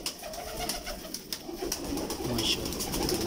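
Ferozpuri Black Horse pigeons coo softly and repeatedly at close range, with faint wing flutters and light background noise and no voices.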